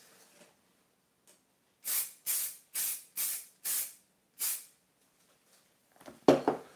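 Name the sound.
spraying fixative on a pastel car sketch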